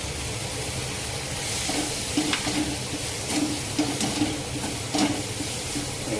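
Vegetables frying with Maggi masala for a veg frankie filling, a steady close sizzle with soft scraping stirs recurring every second or so.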